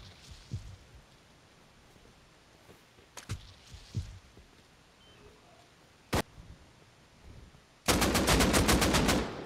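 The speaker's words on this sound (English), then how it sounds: "Holy fuck, dude, this turret is killing me." Automated turret in the video game Rust firing at the player, a fast loud burst of rapid shots near the end, after a few scattered single bangs over a quiet, hissy background.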